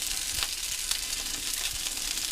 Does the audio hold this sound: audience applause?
no